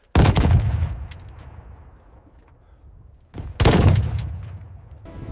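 Cannon fire during a battle at a fort, two loud booming blasts about three seconds apart, each ringing out in a long echoing decay, with faint crackling between them and no voices.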